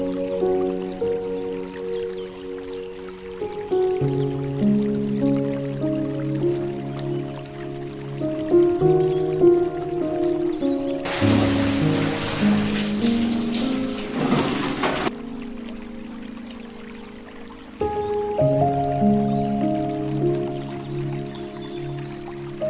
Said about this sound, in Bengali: জামা কাপড়টা কেচে নিয়ে আমি স্নানটা করে নেব।